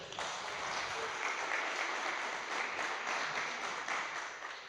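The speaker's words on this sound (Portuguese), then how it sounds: "Você pode aplaudir ao Senhor?" A church congregation applauds, a broad, steady wash of clapping from many hands that stays even throughout at moderate volume, with no talking.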